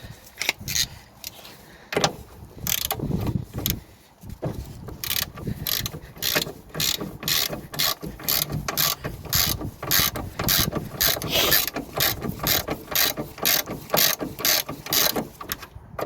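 A ratchet clicks in quick repeated bursts while undoing the track rod end nuts on a Mercedes C-Class steering arm, close and clear, with short pauses between strokes.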